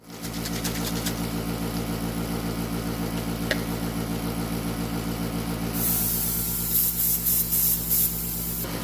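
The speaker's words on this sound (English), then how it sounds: "I have my respirator on because of the spray" An airbrush sprays paint onto a stainless steel tumbler with a continuous close hiss over a steady mechanical hum from the compressor, brightening and sputtering in short bursts near the end.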